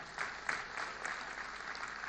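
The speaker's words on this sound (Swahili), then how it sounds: "tuwapigie makofi tena" An audience claps steadily and fairly loudly at a Jamhuri Day celebration, the applause running continuously with no talk over it.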